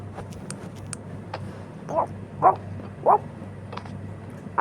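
A dog barks three times in quick succession, sharp yips spaced about half a second apart over a low steady rumble, with a few faint clicks and knocks before.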